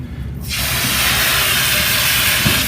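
A high-pressure water hose washes dirt, mud and grease off equipment, a loud, steady hissing spray that starts abruptly and then holds constant at close range.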